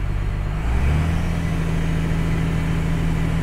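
Steady low diesel drone of a straight-piped 6-liter Dodge diesel truck heard from inside a quiet cab, a muffled, even hum with a slight rise near the start, no voices.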